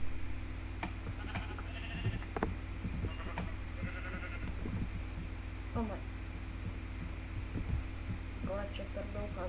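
Blocky sheep in the game Minecraft bleat several times in short, close calls over a constant low electronic hum and game background sounds.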